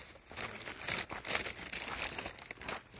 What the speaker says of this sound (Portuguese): Barulho é da sacola